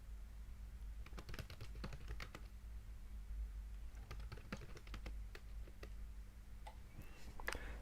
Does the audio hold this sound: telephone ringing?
no